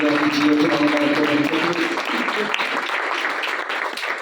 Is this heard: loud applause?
yes